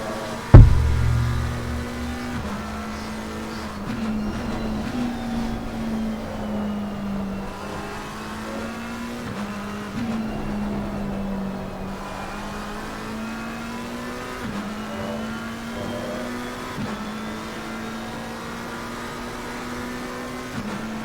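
A GT3 race car engine in Assetto Corsa Competizione, heard from the in-car camera during a Nürburgring race, drones loud and continuous, rising and falling through gear changes with a sharp thump at the start.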